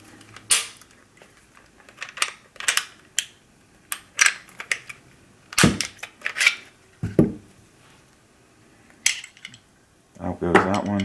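Sharp metallic clicks, clacks and slides ring out in irregular bursts as a Glock 22 Gen 4 pistol is taken apart by hand to swap its guide rod, with quiet pauses between handling noises.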